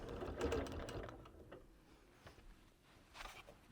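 A sewing machine stitching a quilt with a quarter-inch seam, heard as a short, soft burst of close mechanical stitching at the start that then fades into quiet handling sounds.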